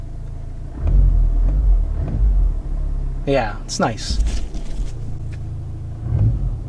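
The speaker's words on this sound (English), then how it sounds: "Sounds good. I can hear the rumble." A Honda Civic Type R (FL5) with a Magnaflow SPEQ exhaust idles after a warm start, its low exhaust rumble running steadily throughout, with a brief higher whining sweep partway through and a person talking briefly over it.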